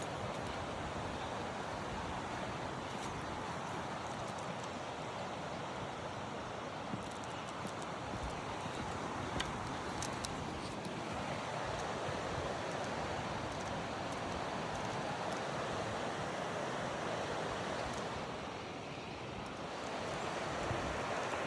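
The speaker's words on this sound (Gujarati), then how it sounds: "પર્વત ઉપર જે ધોધ જાય ને તે નદી છે" A mountain river and waterfall on the Bhrigu Lake trek in the Himalayas roar with a steady, dense rush of water, loud and unbroken throughout, with no voices.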